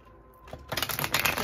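A tarot deck is shuffled up close: after a quiet start, a quick burst of crisp, papery riffling and flapping builds and runs to the end.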